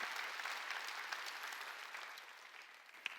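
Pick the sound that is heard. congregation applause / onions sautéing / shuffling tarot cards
congregation applause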